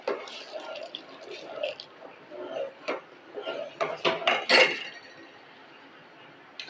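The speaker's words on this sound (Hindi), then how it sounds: "चम्मच हिलाएंगे" A metal spoon scrapes and clinks against a pot while milk pheniyan cooks, with light irregular taps and stirring clatter throughout and a cluster of brighter clinks near the end.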